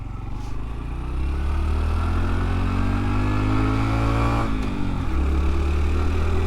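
A Honda Trail 125 motorcycle rides along pavement with a steady, close engine drone that climbs in pitch as it accelerates, then dips and rises again, loud throughout with no talking.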